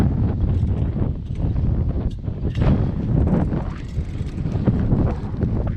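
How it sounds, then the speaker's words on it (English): Steady, heavy wind buffets the microphone with a loud, rumbling roar that fills the whole clip, with no talking. "it's a little windy today"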